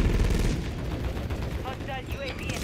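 Gunfire in the video game Call of Duty: Modern Warfare III, rapid automatic bursts dense and loud from the start, thinning slightly toward the end, with brief game sound effects chirping near the close.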